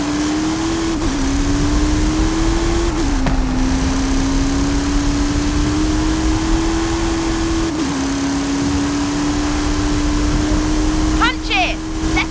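A Hot Wheels Twin Mill car engine in Forza Horizon 5, holding a loud, steady high drone with small pitch dips as it shifts and accelerates throughout, under talk.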